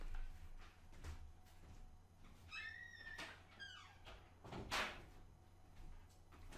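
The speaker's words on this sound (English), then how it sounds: "Let me close my door." Door being shut indoors: a few squeaky, scraping movements followed by a sharp knock or latch click partway through, over a quiet room with faint background noise.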